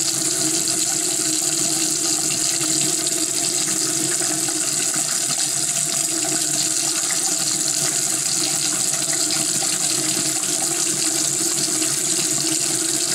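Tap water runs steadily into a sink while sugar scrub is rinsed off hands, a close, even gushing stream with faint splashing that lasts throughout.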